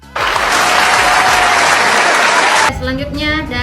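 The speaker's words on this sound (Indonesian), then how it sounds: "Wow, tepuk tangan buat statementnya Nabila." Loud, dense applause from a university audience at a student information-systems project event, bursting in sharply and continuing steadily before cutting off near the end, where voices and a few remaining claps follow.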